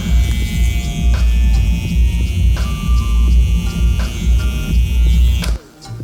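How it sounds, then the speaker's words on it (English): A Babyliss Influencer Collection electric hair trimmer hums steadily and close up while cutting and tapering hair, a constant buzzing drone that cuts off near the end. "has got a nice quiet hum compared to the other two"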